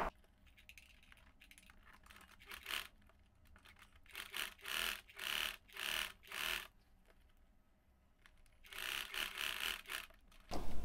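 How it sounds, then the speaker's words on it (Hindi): A sewing machine stitches right along the edge of a zipper in several bursts of rapid, close mechanical whirring, pausing briefly between runs before starting up again. "अब यहाँ पे बिल्कुल जिप के किनारे से सिलाई लगानी है"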